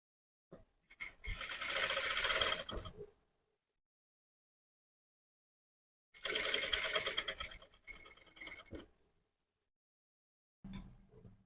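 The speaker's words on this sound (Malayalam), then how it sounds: "കഴുത്ത് ആദ്യം അടിച്ച് മറിച്ചെടുക്കാം." Sewing machine stitching the neckline of a sleeveless prince-cut dress, two separate runs of a few seconds each with quiet pauses between, and a brief third run starting at the end.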